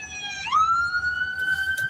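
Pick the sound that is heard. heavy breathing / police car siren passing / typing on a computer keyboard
police car siren passing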